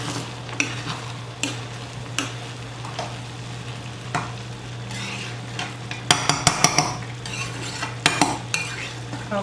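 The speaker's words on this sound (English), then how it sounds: "we're gonna give our rice one last stir." A spoon stirs rice with cod in a pot over gentle sizzling, with scraping strokes and a few sharp clinks against the pot near the end, no voices.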